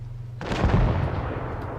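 Tank cannon fire in a competitive video game tank battle, a sudden heavy boom that bursts in after a low rumble and decays into rolling reverberation, loud and close.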